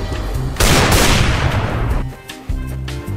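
A loud burst of gunfire in a CS:GO match, a sharp blast with a long rolling tail followed by a second shot, close and dominant over faint game ambience.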